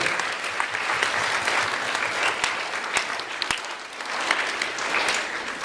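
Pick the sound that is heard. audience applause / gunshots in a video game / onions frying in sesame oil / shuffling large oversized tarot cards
audience applause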